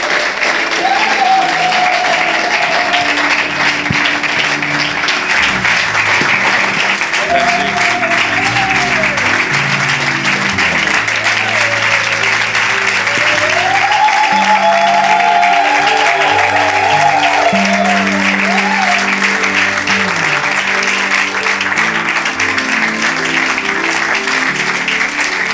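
Sustained applause from a church congregation welcoming a pastor, broadband and steady for the whole stretch with a faint musical tone drifting underneath.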